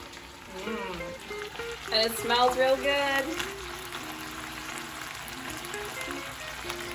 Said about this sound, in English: That beef is sizzling.